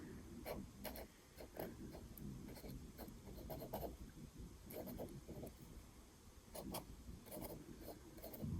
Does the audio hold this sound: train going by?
no